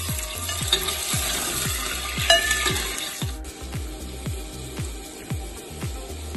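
Chicken fries in hot oil in a pot for soup, a close crackling sizzle with regular low thumps as it is stirred, and no talk.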